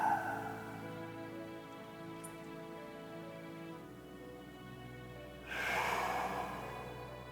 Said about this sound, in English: Deep abdominal breaths.